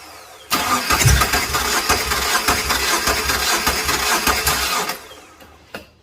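The 2.0L twin-turbo engine of a Subaru Legacy cranks on the starter during a spark test, a steady loud whirring churn lasting several seconds without catching, then cutting off.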